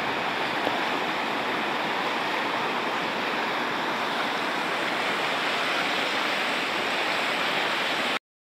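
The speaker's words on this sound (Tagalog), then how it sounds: "Grabe lakas ng agos." The Majayjay river in Laguna runs with a strong current, a dense, continuous rushing roar of water that holds steady and loud before cutting off abruptly.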